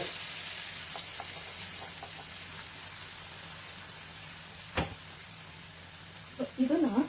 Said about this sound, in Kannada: ಇದನ್ನ ಈಗ ಚೆನ್ನಾಗಿ ಫ್ರೈ ಆಡಿಸ್ಕೊಳ್ಳೋಣ